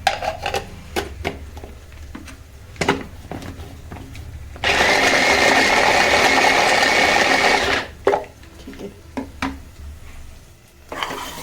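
Onion for pav bhaji being chopped in a hand chopper, a rapid, steady whirring rattle of blades lasting about three seconds, set between sparse clicks and kitchen knocks.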